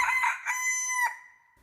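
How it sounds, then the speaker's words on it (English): A single loud rooster crow, close and clear, rising and then trailing off. "cried down from the beam, "Cock-a-doodle-doo!""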